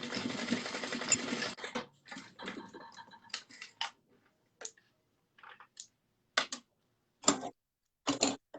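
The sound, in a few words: sewing machine basting a D-ring onto a moto bag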